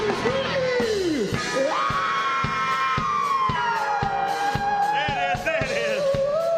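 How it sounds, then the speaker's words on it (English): A concert crowd at an outdoor Harlem Day stage on Saint Nicholas Avenue screams and yells loudly and steadily, with whoops rising over a driving beat of amplified music and a voice calling out above it. "Everybody, somebody scream!"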